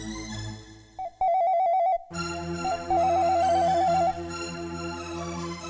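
A telephone ringtone plays in loud, repeating electronic melodic bursts with brief gaps between them, over a background of soft tones and music.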